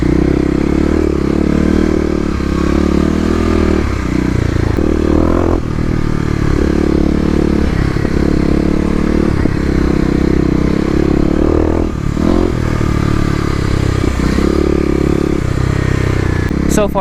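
A Kawasaki KLX250 dirt bike with Stage 1 modifications rides fast on off-road OHV trails. Its engine drones loud and close, rising and falling as it revs through gears, with rattles and clatter over the terrain.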